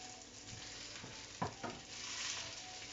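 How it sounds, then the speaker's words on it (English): Chicken pieces frying in a pan for an oriental peanut sauce dish, a quiet steady sizzle with a couple of brief scraping stirs partway through. "we're just frying this off"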